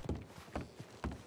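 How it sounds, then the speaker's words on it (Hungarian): Abandoned horses in Red Dead on a roleplay server: three evenly spaced hoof clops on hard ground, close and fairly quiet, with no talking. "Ezek az elhagyott lovak"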